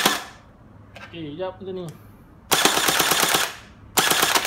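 An RX AKM47 toy blaster fires two loud full-auto bursts of rapid rattling shots, the first about a second long and the second shorter, after a brief spoken line.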